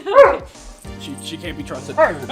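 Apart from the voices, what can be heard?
dog barking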